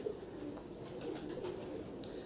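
Golden 222 breed pigeons coo softly in low repeated murmurs, close and fairly quiet against a light background.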